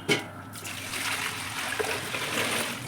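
Water is poured while preparing brinjal vathal, trickling and splashing steadily and continuously for a few seconds, close by, with no voices.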